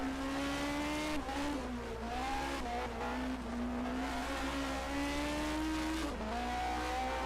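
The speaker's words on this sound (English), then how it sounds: "Downshifting." A 1980 DRM Division 2 race car at the ADAC-Preis von Baden-Württemberg, heard from onboard as a loud, steady engine drone whose pitch drops and climbs through several downshifts.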